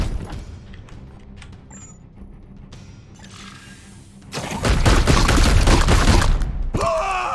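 Heavy, sustained bolter fire from Grey Knights in Warhammer 40,000: Chaos Gate erupts as a loud, dense volley after a quieter stretch of low rumbling ambience, ending with a short metallic mechanical sound.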